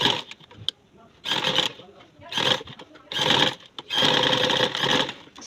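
A sewing machine stitches along the folded neckline of a boat neck garment, running in several loud whirring bursts separated by brief pauses, with a voice speaking between them.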